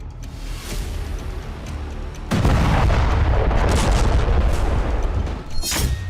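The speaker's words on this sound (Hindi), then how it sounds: "जिसके बाद एक विस्फोट होता है जिसमें कार तबाह हो जाती है" A heavy explosion destroying a car booms in and leaves a dense, roaring rumble that carries on loudly for several seconds, with a few sharper cracks near the end.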